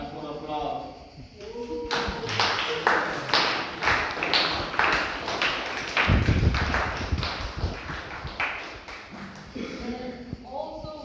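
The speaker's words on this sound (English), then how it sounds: "Time for applause." Audience applause at an association's presentation: a sustained stretch of clapping that swells and then fades, with voices speaking before and after it.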